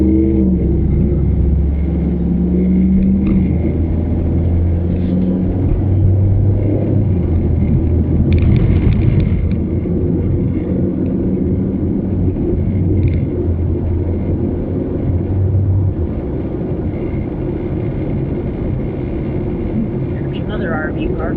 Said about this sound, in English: it's just a car ride.